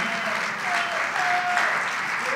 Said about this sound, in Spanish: démosle un aplauso grande y fuerte al Señor